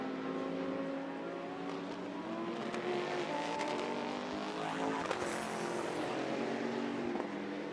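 A Ginetta GT race car engine screams past at high revs during qualifying at Monza, its rising and falling whine shifting pitch as it passes, loud and continuous.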